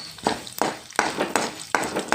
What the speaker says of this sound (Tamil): வெந்தயம், கடலைப்பருப்பு, பொரியுது பாருங்கள்